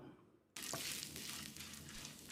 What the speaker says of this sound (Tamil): அளவான தீயில உளுந்து செவக்கிற அளவுக்கு வறுத்துக்கலாம்.